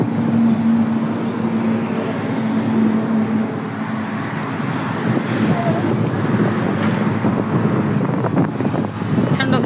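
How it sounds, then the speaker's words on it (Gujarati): Cold wind gusts steadily outdoors near cattle being fed green grass, a broad continuous roar with rumbling buffeting, while a voice speaks intermittently beneath it. "ઠંડો કેટલો મસ્ત અત્યારમાં પવન"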